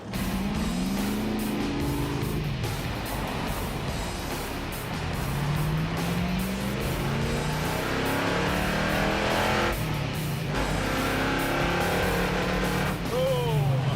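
A car engine drones continuously while being driven on the highway on a failing battery, its ignition low on voltage and missing, with a loud, steady road and engine roar and voices faintly mixed in.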